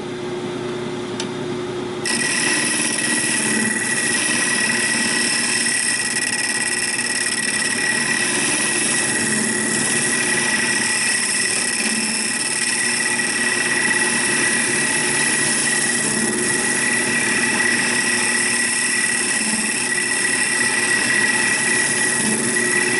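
A wood lathe spins a cherry and walnut segmented bowl, a steady mechanical hum and whir with tonal drone, continuous and close, without talk.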